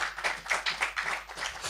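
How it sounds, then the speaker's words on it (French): Rhythmic group clapping from a church congregation, steady beats roughly every fifth of a second, moderately close and fairly quiet, with no voices over it. "Nous aimerions que nous applaudissions pour ce Dieu."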